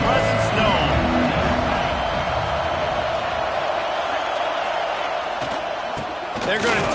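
Steady, dense stadium crowd roar fills a college football game in EA Sports College Football 26, a constant wash of massed voices with a few thuds, with commentary-style talk over it.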